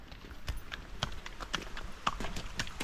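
A horse's hooves clop in a steady, rhythmic walking beat on a hard surface, fairly close and distinct, with no talking over them.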